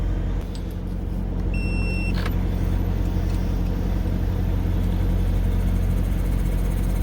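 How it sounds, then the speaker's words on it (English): Battery-powered vacuum pump running with its caps off to warm its oil before an oil change, a steady, close, continuous motor hum that holds level throughout without pauses or talking. "So that pump is slowly ramping up."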